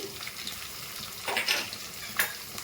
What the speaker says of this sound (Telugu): ఎండుమిర్చి వేసుకొని ఒకసారి ఇలా ఫ్రై చేసుకుంటే పోపు బాగా ఫ్రై అయ్యాక